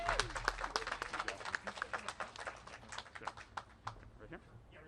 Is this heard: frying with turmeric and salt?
no